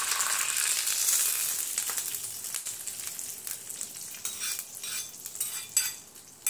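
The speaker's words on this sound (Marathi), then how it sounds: "मोहरी आपण टाकलेली आहे, त्यामध्येच कढीपत्त्याची पानं ही टाकून घेतलेली आहेत आणि हा गरम गरम तडका आपण चटणीवर ओतून देऊया।" Hot tempering of mustard seeds and curry leaves in oil poured onto chutney, a bright crackling sizzle that fades into scattered pops and spoon clinks, close by with no talk.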